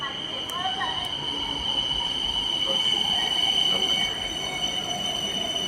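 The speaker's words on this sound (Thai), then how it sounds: "รถมุ่งหน้าคูคตเข้ามาแล้ว" A BTS Skytrain pulls into Mo Chit station in Bangkok, its wheels squealing in a steady high whine over rolling rail rumble, with scattered crowd chatter on the busy platform.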